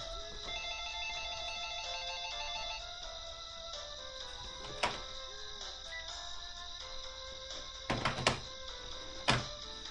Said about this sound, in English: Wait, listen to this music.